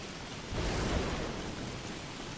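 Rain falls in the video game Don't Starve as a soft, even hiss of dense drops, with a brief swell of heavier rumble near the start, quiet overall.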